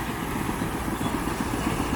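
A Niva SK-5 combine harvester engine runs steadily throughout with a low, regular chugging pulse, close and continuous, with no voices.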